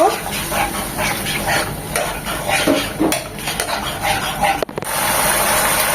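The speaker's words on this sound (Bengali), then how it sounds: "একটু পানি দিয়ে মশলাগুলো খুব ভালোভাবে কষিয়ে নেব" Spices for a hilsa fish korma are sautéed with a little water in a pan: continuous scraping and stirring, utensil clatter against the pan and a soft sizzle underneath, loud and close.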